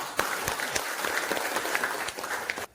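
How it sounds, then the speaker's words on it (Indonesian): Applause for student groups in a classroom, a steady wash of many hands clapping for nearly three seconds before cutting off abruptly. "sekali lagi beri aplaus untuk setiap kelompok"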